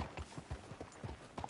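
Video-game horse hooves clip-clop at an even walking pace, a soft and fairly quiet run of repeated hoof strikes.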